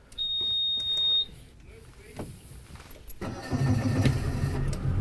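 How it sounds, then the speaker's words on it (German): A long high beep sounds, then a fishing boat's motor cranks and catches, settling into a low, steady running rumble, on the Baltic Sea off Langeland, Denmark. "wir starten den Motor."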